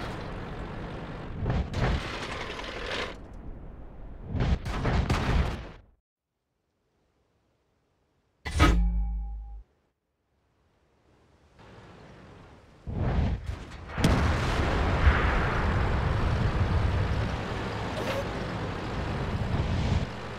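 Tank gunfire and explosions in a video game boom in several heavy bursts separated by brief silences, with a louder sustained blast and rumble toward the end.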